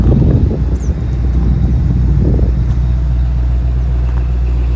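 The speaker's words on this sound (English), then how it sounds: "you can kind of hear the exhaust. It must be just rattling against something." Exhaust on a 1979 Pontiac Trans Am 400 four-speed, restored muscle car, rumbling steadily at close range with a low, continuous drone and some irregular rattling roughness, no talk.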